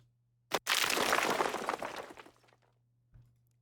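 A sharp crack followed by a dense, crumbling cascade of debris that rattles and scatters for about two seconds before trailing off, then a small late thump.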